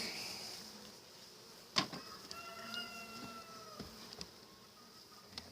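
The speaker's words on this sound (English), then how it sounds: "nice little honey bees" Honey bees hum faintly and steadily in the background, with a few scattered clicks and a brief louder knock partway through.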